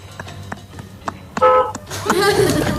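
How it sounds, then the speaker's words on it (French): A single car horn toot sounds at mid-clip amid a busy street setting, with faint talk and traffic noise around it and a louder burst of street sound near the end. "tu klaxonnes une fois."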